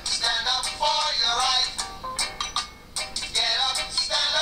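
Music plays through the small built-in speaker of a Google Nexus 7 tablet, sounding thin and tinny with little bass, steady and moderately loud.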